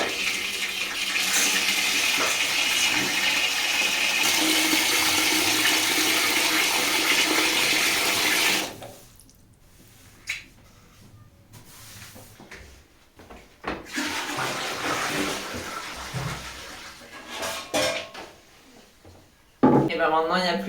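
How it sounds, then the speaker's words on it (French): An old-style toilet flushes in an apartment during copper plumbing work, a loud continuous rush of water for several seconds that cuts off, followed by quieter clunks and handling noises. "Je tire une dernière fois la chasse à l'ancienne."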